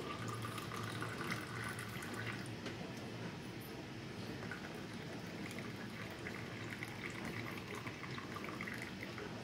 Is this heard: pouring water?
yes